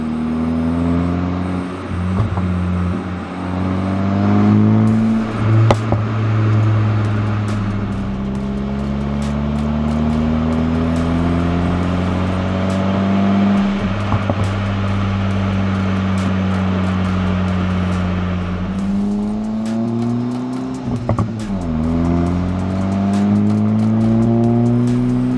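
A car drives steadily, captured by a microphone mounted on the back of the vehicle: a loud, continuous engine drone whose pitch rises and falls through gear changes and acceleration, with brief clicks and rattles over it.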